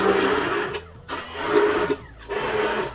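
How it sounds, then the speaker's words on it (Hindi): A hand blender whirs loudly in bursts, cutting out briefly twice before starting up again, close by. "ये मेरा हैंड ब्लेंडर है"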